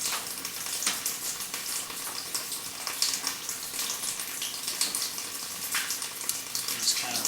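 A sewer inspection camera pushes through standing water inside a buried pipe, producing a steady hissing, splashing rush with irregular crackles, fairly loud and continuous from start to finish.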